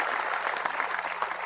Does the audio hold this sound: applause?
yes